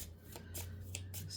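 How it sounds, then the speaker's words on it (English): Enchanted Map Oracle cards being shuffled close by, a few quick riffling bursts of card slaps over a faint steady hum, with no talking. "I'm using the Enchanted Map Oracle cards by Colette Baron Reed, and let's see what comes out."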